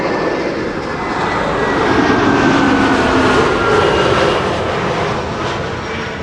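An EasyJet jet airliner arrives on runway 06, the Kaagbaan, at Amsterdam Schiphol, with a loud, continuous engine roar that swells toward the middle and then eases slightly, heard alone without talk.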